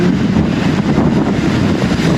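Strong typhoon wind in Hong Kong roaring and buffeting against the microphone, a loud continuous rush with gusty surges and no talking.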